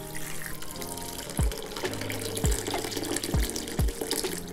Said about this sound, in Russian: и заливаем фильтрованной водой.